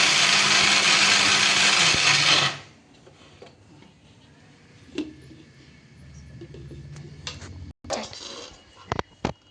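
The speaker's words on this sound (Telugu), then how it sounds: "చట్నీకి మిక్సీ పట్టుకుందామండి." A kitchen mixer grinder runs loud and steady for about two and a half seconds while grinding chutney, then cuts off, leaving a quiet room with a few clicks and knocks.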